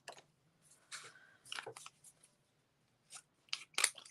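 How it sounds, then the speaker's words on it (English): Scissors snip through cardstock while a bay window greeting card is trimmed, giving several short crisp cuts in uneven bursts, close and fairly quiet, with no talking. "Then we're just going to trim this."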